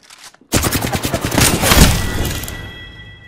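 A burst of rapid gunfire in the Apex Legends video game erupts loudly after a brief quiet moment, with sharp repeated shots that fade into a ringing tail.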